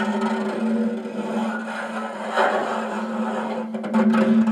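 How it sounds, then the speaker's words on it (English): A pencil eraser dragged over a banjo head with no filter, a close continuous rubbing squeak with a droning tone, fairly loud and unbroken apart from a brief dip before the end. "So here's the sound of me dragging the pencil eraser over top of the banjo head without a"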